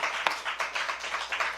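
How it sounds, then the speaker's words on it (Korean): A church congregation claps together during a sermon, a steady patter of hands rising and falling in loose waves, moderately close and filling the room for a short burst. "하나님께 영광의 박수."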